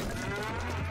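A cartoon cow gives a long, loud, close moo that fills the whole moment with a sustained low, droning tone and no talk over it.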